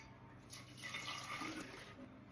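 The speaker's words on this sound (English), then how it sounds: "So I'm going to put about a half of a cup of water in here and then strain it." Cooked coffee liquid is strained, producing a faint, continuous trickle and splash of pouring liquid at a low level with no talking.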